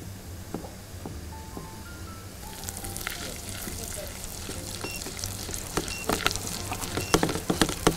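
Garlic and onion frying in oil and butter with peppers for a liver pasta sauce, a steady close sizzle that grows louder and busier with crackling pops and stirring in the second half.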